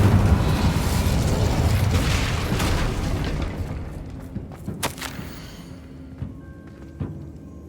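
Incendio fire spell cast in the Hogwarts Legacy video game: a loud roaring blast that dies away over a few seconds, followed by scattered faint thumps and clicks.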